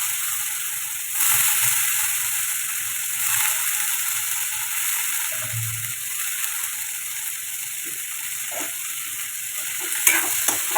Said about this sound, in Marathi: गवार आपल्याला छान परतून घ्यायची.